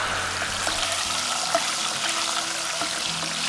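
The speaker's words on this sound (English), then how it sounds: "I'm just going to put them all at once into this oil. It's going to make a bit of a noise, but it won't splatter." Fresh sage leaves fry all at once in hot oil with a steady, dense sizzle and crackle that holds at an even level throughout, close and alone with no talking.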